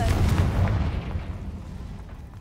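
A Confringo blast spell fired in the Hogwarts Legacy video game lands as a loud, booming explosive burst at the start, then rumbles and fades away over the next two seconds.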